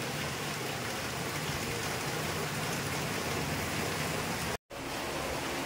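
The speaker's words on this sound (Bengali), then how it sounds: "এখন বৃষ্টি হচ্ছে আমাদের এখানে" Rain falling at night, a dense, even hiss of drops that holds steady throughout, with one brief dropout near the end.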